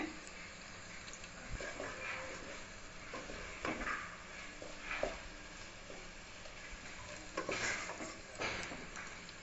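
Noodles being tossed with fried egg and soy sauce in a pan for Chinese-style noodles, giving steady scraping and stirring with soft sizzle and occasional clanks of utensil on pan, close and moderately quiet with no talk.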